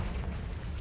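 A Confringo fire-blast spell explodes in the video game Hogwarts Legacy, a single dense, booming burst that fills the whole short moment, loud and close with no talk over it.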